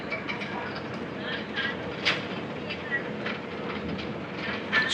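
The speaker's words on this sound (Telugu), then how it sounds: "Bhimadolu railway station." Train at Bhimadolu railway station in Andhra Pradesh, a continuous rumbling roll with faint clicks of wheels on rail, heard at moderate distance from a passing bus along NH16.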